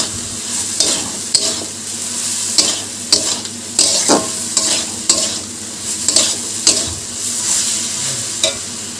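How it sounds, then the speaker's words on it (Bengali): Rice pumpkin pieces fry in fish oil in a pan and are stirred repeatedly, loud close sizzling punctuated by regular scraping strokes of a spatula about every second. "এবার ভালো করে নাড়াচাড়া করব।"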